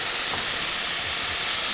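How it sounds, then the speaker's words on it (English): Tamari or soy sauce hitting hot oil in a pan gives a loud, steady steaming hiss that fills the whole clip without a break, with no voices heard. "what's happening here is the oil is reacting with the water and it's creating the steam"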